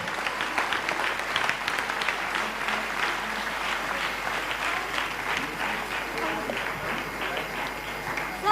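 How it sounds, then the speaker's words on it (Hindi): Clapping from an audience at a reconciliation program in Raipur, Chhattisgarh, a sustained even wash of many hands at moderate level lasting several seconds, with faint crowd murmur underneath. "क्या आप लोग भी लेना चाहते हैं तो तालियां जरूर बजाएं।"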